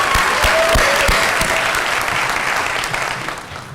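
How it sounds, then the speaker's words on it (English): A graduation audience bursts into full applause, a loud, dense wash of many hands clapping that stays strong for a few seconds, then begins to thin out. "Do we clap? Yes, you clap. Go ahead."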